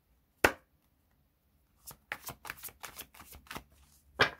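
Tarot cards are shuffled by hand in a quiet room: a single sharp slap, a pause, then a quick irregular run of riffling snaps and taps, with a final slap on its own.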